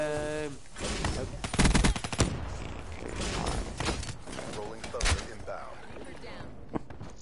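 Rapid machine gun fire in a zombies shooter game, bursts of loud close shots rattling over several seconds, mixed with talking players and other game noise.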